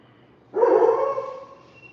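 A single long, drawn-out bark or howl from a dog, fairly close and loud, fading slowly.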